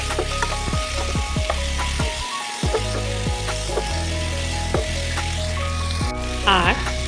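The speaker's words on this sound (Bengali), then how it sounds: "দিয়ে এই সবজিগুলো ভালো করে ভাজতে থাকবো।" Diced potatoes, beans, chillies, capsicum and other vegetables fry in a pan with a steady close sizzle, punctuated by repeated scraping stirs and a few clanks of the spatula, with no voices.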